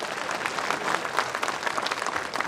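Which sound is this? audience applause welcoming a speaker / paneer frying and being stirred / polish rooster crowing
audience applause welcoming a speaker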